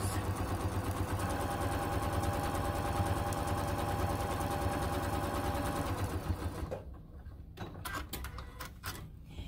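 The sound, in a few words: semi-commercial sewing machine stitching a strip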